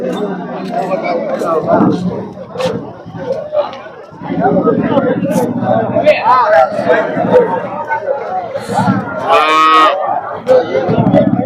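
Holstein Friesian cows moo repeatedly amid a busy crowd at a weekly cattle market in Punganur, several loud bellows near and far, with people chattering throughout.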